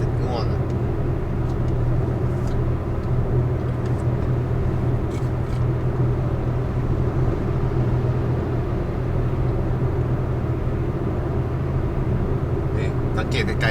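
A Ford Focus 1.8 hatchback cruises on a highway at about 100 km/h, heard from inside as a steady, loud low engine and road drone that stays even throughout.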